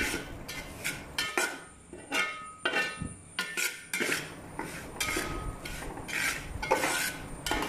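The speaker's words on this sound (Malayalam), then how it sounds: "കൈ എടുക്കാതെ അടിയിൽ നിന്ന് ചേർത്ത് നമ്മൾ ഇത് ഇളക്കിക്കൊണ്ടിരിക്കണം." Pineapple avalose mixture being stirred as it roasts in a pan, with a metal spoon scraping and clinking against the pan in a steady, continuous rhythm, close and moderately loud, with no talking.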